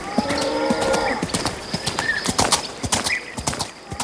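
Trakehner-type East Prussian thoroughbred horses, a sturdy cross of English and Arabic full-bloods, clip-clopping on hard ground with steady, fairly close hoof strikes over a busy outdoor background, no talking.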